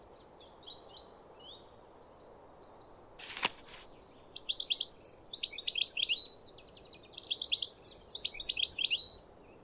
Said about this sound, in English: Red knot. This bird has one of the longest migrations from the high Arctic to Chile and South Africa.